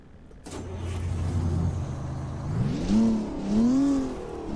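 A Cummins 671 truck engine in American Truck Simulator starts with a deep idle rumble, then revs up and down twice in rising, screaming sweeps, loud and alone.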